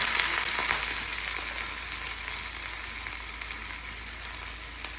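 Onion frying in coconut oil, a constant bright hiss of sizzling oil with faint scattered crackles, steady and even throughout, no voices.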